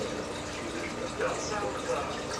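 Steady running water pours in an aquarium sump, a continuous broadband splashing and gurgling that stays close and even throughout, with no pauses.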